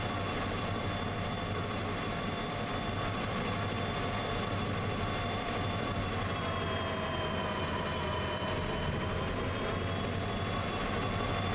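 A locomotive in the train game Derail Valley runs under heavy load using sand, giving a steady, loud, continuous rumble with tonal whine and wheel noise throughout, unbroken and without speech.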